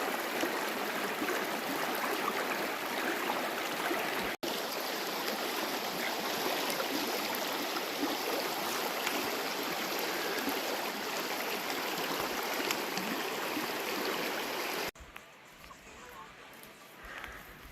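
Water of the Gila River rushing steadily at a river crossing, a loud continuous broadband wash that fills the scene for about fifteen seconds before abruptly dropping to a quieter flow.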